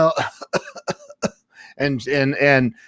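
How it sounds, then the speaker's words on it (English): A few sharp, close coughs in quick succession, followed by a person speaking. "My mom's got a bad cough"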